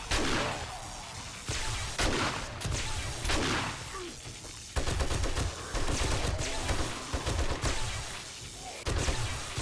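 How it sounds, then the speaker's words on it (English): Dart traps firing in the survival game 7 Days to Die, heard as repeated rapid bursts of sharp mechanical shots and clattering impacts that come in several loud volleys over a constant background din. "And I still get experience when my dart traps shoot."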